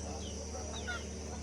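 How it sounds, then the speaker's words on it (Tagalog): Chickens cluck softly over a low steady background hum, a few short calls rising briefly near the middle. "yung mga manok oh"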